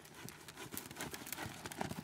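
Horses trot in a riding arena, their hooves beating a quick, even clip-clop rhythm on the footing at moderate distance, with a faint soft snort and no talk.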